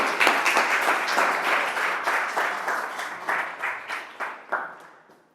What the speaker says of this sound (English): just help me giving an applause